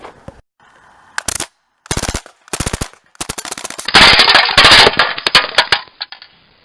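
An Uzi BB submachine gun firing at cans outdoors, loud rapid bursts of sharp rattling shots separated by short gaps, with one longer sustained burst and a hissing rush toward the end.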